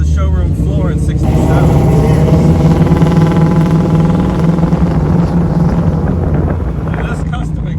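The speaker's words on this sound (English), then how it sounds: "And this custom exhaust sounds amazing." A 1967 Pontiac Firebird 400 with a frame-up restoration and custom exhaust rumbles deep and loud on the road, holding a steady drone with wind buffeting the microphone and no talking.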